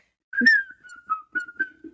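A person whistles up close in a clear steady tone with several short sliding notes, with faint breathy sounds beneath.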